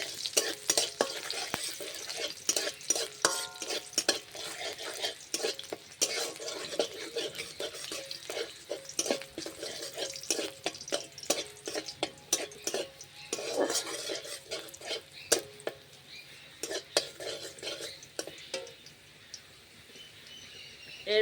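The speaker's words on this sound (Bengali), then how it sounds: "তেলটা গরম হয়ে গিয়েছে, দিয়ে দেব রসুন কুচি। রসুনটা একটু ভেজে নেব।" Chopped garlic sizzling in hot oil, stirred with a utensil that scrapes and clicks against the pan in frequent irregular strokes over a soft frying hiss, close and moderately loud.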